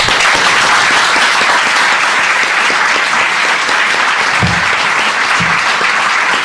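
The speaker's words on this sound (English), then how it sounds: "Keep clapping." Audience applause after a talk on libertarian socialism: dense, loud clapping from a large crowd, sustained without break.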